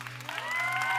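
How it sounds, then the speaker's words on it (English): An audience at a youth event claps and cheers, the applause swelling steadily louder over a second with a sustained tone underneath. "I hear a lot of cheering, and I hear the young people cheering"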